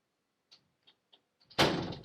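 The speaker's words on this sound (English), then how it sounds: "Close the door all the way, please." A door is pulled shut and slams with a single loud, close thud, preceded by a few faint soft clicks or taps.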